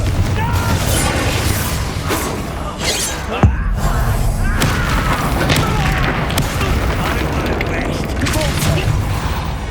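A Confringo fire-blast spell in Hogwarts Legacy combat: dense, loud game audio with a sharp booming burst around the middle, over continuous clashing effects and background score.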